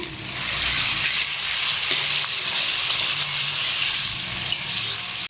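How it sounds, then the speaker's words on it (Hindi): Masala sizzles and fries steadily in a karahi for a cauliflower curry, a dense, continuous hiss that stays loud and even throughout, with no talking. "और इसे जस्ट 1 मिनट के लिए ऐसे भूनेंगे"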